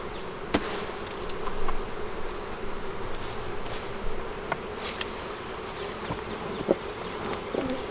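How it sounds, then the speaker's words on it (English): Dense, steady buzzing of many bees close by around an open hive, with a few individual insects droning louder as they pass near. "Good amount of bees on here, starting to work that."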